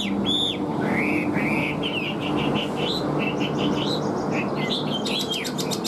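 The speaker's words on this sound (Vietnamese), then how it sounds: "clip được khoảng tầm 20 phút rồi mà con chim nó chơi không ngừng nghỉ các bác nhá" A Chinese hwamei, the melodious laughingthrush, sings continuously in a rapid run of whistled, varied phrases over a steady background hum.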